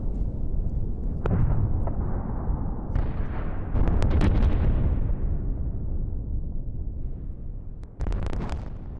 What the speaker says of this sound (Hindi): यूक्रेन के विस्फोट में रूसी ड्रोन गोदाम तबाह।